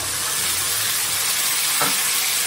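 Mutton masala with coriander, red chilli and a splash of water sizzling in the pan while being sautéed for mutton kosha, a steady loud hiss that continues throughout with no talking.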